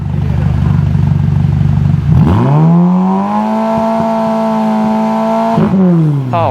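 A loud Ferrari Roma engine idles with a rough burble, then revs up sharply into a sustained high roar before dropping back, heard up close.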